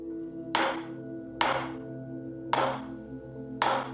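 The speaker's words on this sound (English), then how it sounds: "I'll just do some really light hammer work to get some of these hammer" Four sharp, evenly spaced hammer strikes ring out on steel while working out marks around the flutes of Gothic medieval armor, each with a bright metallic decay over a steady low hum.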